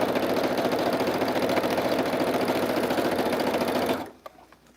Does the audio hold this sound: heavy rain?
no